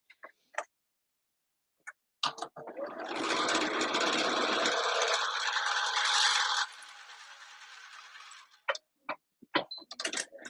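A sewing machine stitches a jelly roll race quilt in a steady whirring run of about four seconds, fairly close, framed by scattered clicks and taps before and after, with no talk.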